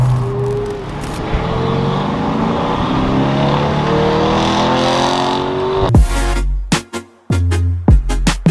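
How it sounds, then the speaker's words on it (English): A Lamborghini sports car drives with a steady engine drone and road noise close up, then sharp revving bursts and abrupt cut-offs near the end as the engine blips. "we're doing a Lamborghini drive straight from Lamborghini to the Woodlands"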